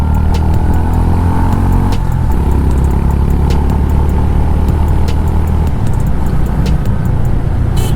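Honda H'ness CB 350 motorcycle ridden on the road, its loud, steady engine drone and wind rush continuous throughout, with a gear change partway through.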